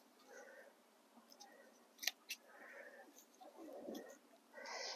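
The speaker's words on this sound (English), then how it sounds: "I'm going to trim above a set of 2 to 3 leaves." Garden shears snip through basil stems while trimming above sets of leaves outdoors, giving two sharp close cuts amid faint rustling and handling of the plant, quiet overall.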